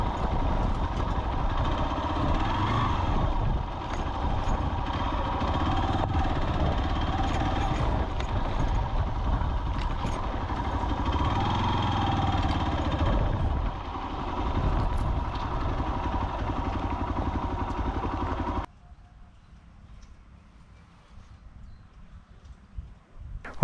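Hero Xpulse 200 motorcycle riding along a farm path, a continuous loud engine drone with rattling and wind noise for most of the span, then dropping suddenly to a quiet low idle near the end.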